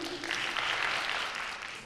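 Audience at a junior high school mother-tongue song and dance drama competition breaking into applause, a brief burst of dense clapping that swells and then eases slightly.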